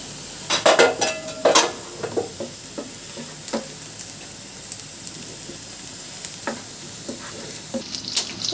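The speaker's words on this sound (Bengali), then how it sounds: "বাগার দেওয়া হবে।" A tempering of chopped onion hits hot oil for a Bengali shrimp and jackfruit-seed stem dish, giving sharp bursts of sizzling and spattering that fade to a softer crackle, with occasional utensil knocks.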